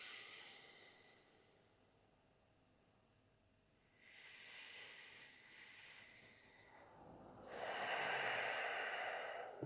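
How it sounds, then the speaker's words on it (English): Slow breathing in and out through the nose during a guided breathwork meditation, soft airy exhalations swelling and fading close to the microphone, with no talk. "just return to breathing in and out of the nose."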